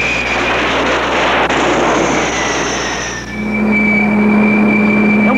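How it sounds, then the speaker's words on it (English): An F-4J Phantom jet lands on the aircraft carrier U.S.S. Eisenhower: a loud, broad jet roar that dips after a few seconds, then settles into a steady, high engine whine. "that's the F4J Phantom Jet. It's coming in right now."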